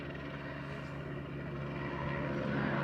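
Helicopter flying over a city street, a steady droning rotor rumble that grows slightly louder over a few seconds, with no talk.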